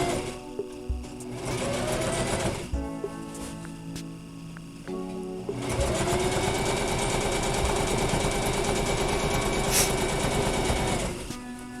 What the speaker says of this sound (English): what we're starting with first is to resew the edges. Of the vent,